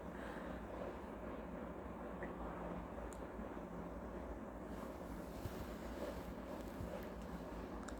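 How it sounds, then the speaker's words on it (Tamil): Air rushing out of the fuel tank line of a Honda SP Shine 125 motorcycle during a blockage check, a continuous close, steady breathy hiss that lasts the whole stretch. "ஏர் நல்லா ஃப்ரீயாக வருது வெளியில்."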